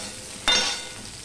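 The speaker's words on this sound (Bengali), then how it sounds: "দেখো বেগুনগুলো আমি একটুখানি ভেজে নিচ্ছি" Eggplant pieces frying in oil for a Bengali katla fish curry give a quiet background sizzle broken by one sudden, loud burst of spattering that fades over a fraction of a second.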